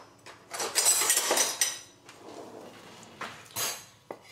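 A kitchen knife coarsely chops fresh parsley on a board, giving a quick run of close, crisp knocks and scrapes that clusters, pauses, then returns in a few sharper taps.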